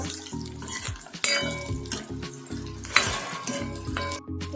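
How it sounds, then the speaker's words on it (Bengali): Eggplant frying in a pan gives a busy sizzle over a low steady hum, with scattered clinks and scrapes of a utensil against the pan throughout. "বেগুনটাকেও আমি ভেজে নেবো"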